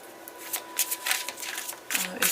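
Tarot cards being shuffled and laid out for a reading, a quick run of papery riffles and soft snaps, close and fairly loud, coming in irregular bursts.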